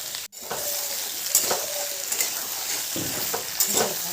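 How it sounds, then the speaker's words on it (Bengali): Aubergine, radish and other vegetables fry with a steady sizzle in a pan while a spatula stirs them in several scraping strokes, close and fairly loud. "ভালো করে সব সবজিগুলোকে এবার ভেজে নিচ্ছি।"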